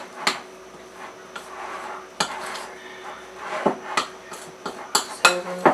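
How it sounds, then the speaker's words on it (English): Spoon scraping and knocking against a bowl while stirring a no-egg pie crust mixture, irregular close clinks and taps with soft rubbing between them, no voices. "I'm going to get a spoon here, and I'm just going to stir this up"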